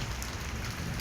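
Heavy rain in Lahore falls steadily, a dense, even hiss of drops pattering on surfaces that holds at the same level throughout the short stretch, with no voices.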